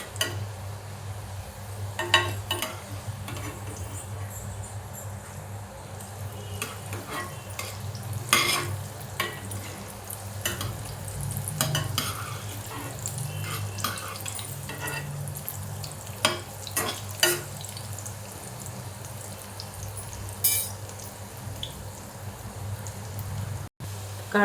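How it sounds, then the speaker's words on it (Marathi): Coriander fritters (kothimbir vadi) frying in hot oil, a steady close sizzle and crackle running throughout with occasional louder pops and clatter of a utensil turning them, no talking. "तेल तापत ठेवलं, तेल तापलंय, मी वडी सोडते तळायला।"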